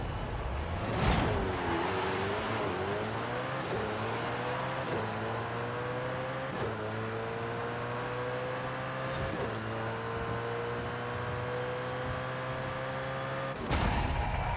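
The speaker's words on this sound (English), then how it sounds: "Launching this car is perfect" A drag car in Forza Horizon 5 launches hard and climbs through a series of rising engine sweeps, each gear change cutting the pitch before it rises again, loud and continuous with a sharp burst at the start and again near the end.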